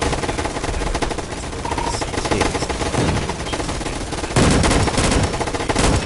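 Rapid automatic gunfire rattles in a video game, dense continuous bursts with short pauses, loud and close, growing heavier toward the end.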